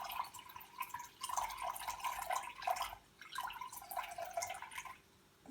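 Water poured into a container on a kitchen scale for sourdough, a faint trickling splash in two bursts with a brief pause between, quiet and close in a home kitchen.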